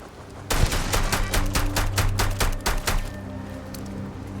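A video-game turret fires a rapid burst of about a dozen sharp, loud shots in steady rhythm, then stops, leaving a low ambient hum in a sci-fi space setting.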